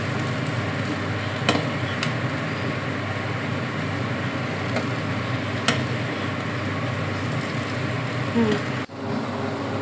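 Vegetable chow mein being stir-fried with sauces and spices in a pan. A loud, dense, continuous sizzle fills the whole stretch, with a couple of faint clicks of the utensil.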